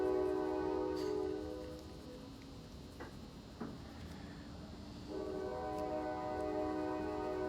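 Passing train with a sustained, faint, distant horn blast at the start, a pause with rumble and a few clicks, then the horn sounding again in a long steady tone.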